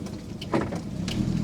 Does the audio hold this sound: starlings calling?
no